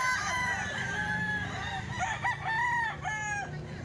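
A Hennie gamecock stag crows twice in quick succession, near and clear, with some clucking and a faint low hum of other farm fowl behind.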